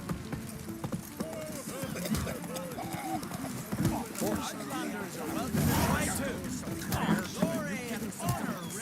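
Roach the horse galloping in The Witcher, a rapid rhythmic clip-clop of hooves running continuously beneath frequent spoken lines and character talk, with game music and ambience around.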